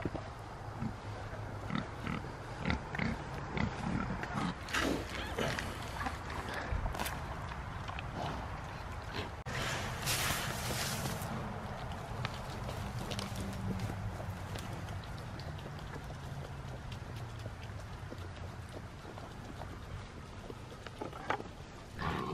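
Pigs squeal, grunt and scuffle noisily at close range, a continuous chaotic commotion of squeals and snorts with occasional thumps, no talking.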